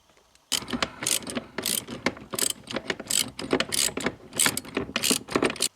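A ratchet wrench loosening bolts on an Audi 100 A6 C4 during steering gear boot work, with repeated close, rapid clicking bursts in an uneven working rhythm.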